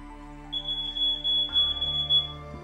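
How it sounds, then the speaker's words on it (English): A high-pitched smoke alarm beeps in a rapid repeating pattern over a low musical background, the beeping running steadily for a couple of seconds. "Make sure you test your smoke alarms regularly."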